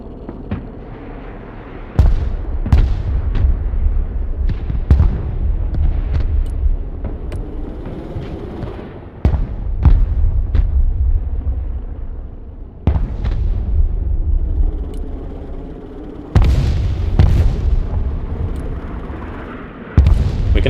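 Nuclear detonations in the real-time strategy game Broken Arrow: a series of heavy booming blasts, each striking sharply and then giving way to a long rumbling roar, landing every few seconds at close, loud range with no talking.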